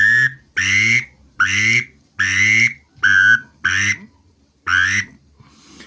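A duck call whistle imitates duck quacks, giving seven loud, evenly spaced nasal quacks with no other sound.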